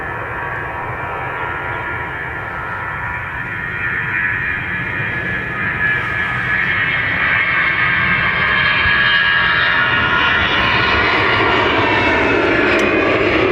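A fixed-wing airliner's engines roar steadily at Dublin Airport, a broad loud rumble that swells gradually as the aircraft builds power, with no voices over it.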